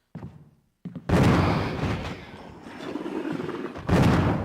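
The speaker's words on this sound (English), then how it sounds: "So, 3 shots from the shotgun on a hunter." Shotgun blasts at a hunter creature in the Resident Evil REmake, a couple of faint early shots followed by two loud, booming discharges with lingering reverberation between them.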